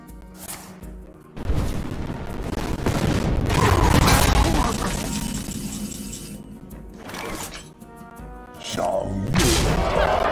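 A card exploding in Hearthstone: several loud booms and shattering bursts that build into a sustained crackling blast, then fade, followed by further sharp impacts near the end.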